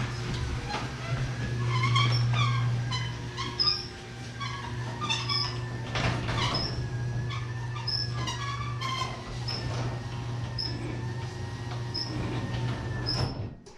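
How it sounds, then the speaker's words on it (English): A Genie garage door opener moves a door on squeaky rollers: a low steady motor hum under a string of repeated high squeaks and chirps at a regular pace, fairly quiet throughout. "My door rollers are kind of squeaky, but the opener is very quiet."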